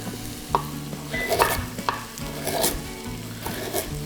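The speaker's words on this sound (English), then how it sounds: "Just cooking up those aromatics nice." Aromatics and sliced galangal root sautéing in a hot pan, a steady close sizzle with intermittent scraping stirs and spatula knocks throughout, no voices.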